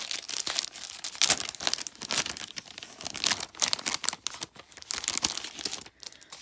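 Paper from a Citrus Twist October pocket kit crinkles and rustles steadily as it is handled during unboxing, a close, busy stream of crisp crumpling with brief pauses and no talk.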